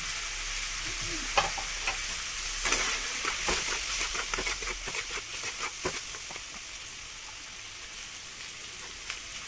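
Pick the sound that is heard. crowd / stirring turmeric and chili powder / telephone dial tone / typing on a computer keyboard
stirring turmeric and chili powder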